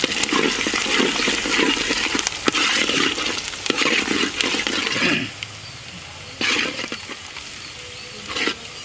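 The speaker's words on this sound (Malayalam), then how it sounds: "ആദ്യം വെളുത്തുള്ളി ഇട്ട് നല്ലോണം ഇളക്കി കൊടുക്കുക." Garlic sizzles in coconut oil in an uruli while being stirred, loud and dense for the first half, then quieter frying broken by a few sharp stirring bursts.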